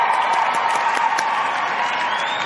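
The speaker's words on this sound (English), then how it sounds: "you'll always get a big cheer" Dense audience applause with scattered cheers fills the room continuously and loudly, a steady wash of clapping from a crowd.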